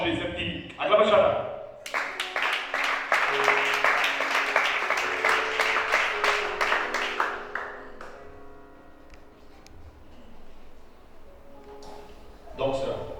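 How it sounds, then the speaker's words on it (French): A church congregation applauds during a sermon, a dense run of clapping rising and then thinning out after several seconds, with a voice heard faintly before and after. "Acclamez chacun."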